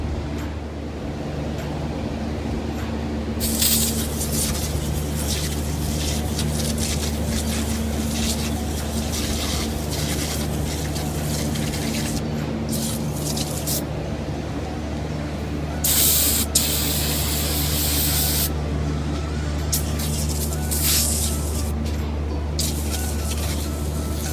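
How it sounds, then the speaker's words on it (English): Acid cleaner hissing from a sprayer onto a refrigeration cooling unit, loud bursts of spray starting and stopping over a constant low machine hum. "we're going to acid wash this after we disconnect the fan"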